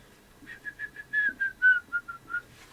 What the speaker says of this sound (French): J'ai siffloté